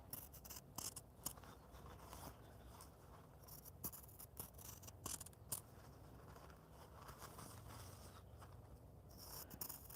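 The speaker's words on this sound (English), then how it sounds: "take my scissors and I trim on the dotted line on the inside curve" Scissors trim fabric along a dotted line on an inside curve during quilt sampler piecing, giving quiet, close snips and rustles at an uneven pace with no talk.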